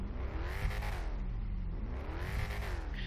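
Car engine revving in GTA 5 during a street race, two rising and falling revs, each climbing to a high whine and dropping, close and steady with no talk.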